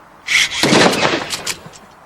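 An electrically fired bomb disposal charge goes off in one sharp, loud blast, followed by a crackling, decaying rumble that fades within about a second and a half.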